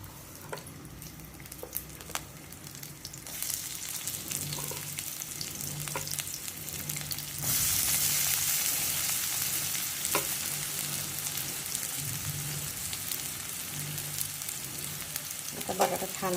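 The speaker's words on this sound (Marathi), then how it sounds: "आता बटाटा छान असं भाजून घ्यायचं." Potatoes fry in oil and get stirred for fasting-style sabudana khichdi, a continuous close sizzle with scattered spatula scrapes, growing louder and brighter partway through, with no talk over it.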